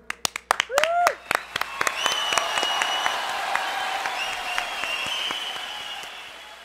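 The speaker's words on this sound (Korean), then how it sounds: "자, 그럼 박수로 한번 청해 듣겠습니다." A studio audience at a live radio music show claps: a few sharp scattered claps and a spoken voice open, then applause swells into a sustained, moderately loud wash with cheers mixed in.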